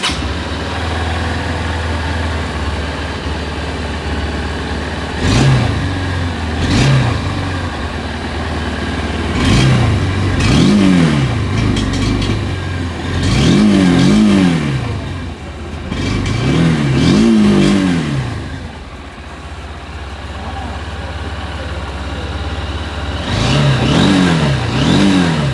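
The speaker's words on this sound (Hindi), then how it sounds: "चलिए एग्जॉस्ट नोट सुन लेते हैं।" A 2021 Honda CB200X motorcycle idles with a low exhaust burble, then revs repeatedly in short bursts, each rise and fall clearly audible, close and loud.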